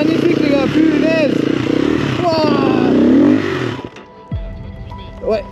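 An off-road raid motorcycle in southern Madagascar, ridden without using the clutch, holds a loud steady engine drone with rising and falling revs before it cuts out into clatter and quieter noises, with people talking over it.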